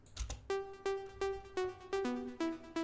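Unprocessed plucky synth melody from a progressive trance track plays a short run of bright, rhythmic notes after a brief noisy click at the start, clear and up close with nobody talking.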